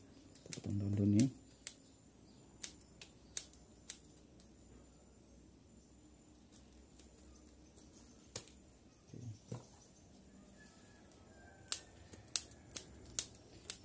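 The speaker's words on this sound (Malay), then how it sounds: "Kita potong daun-daun ni." Scissors snipping the leaves of paper flower plants, bougainvillea seedlings, in a series of short crisp cuts spaced irregularly over a quiet background.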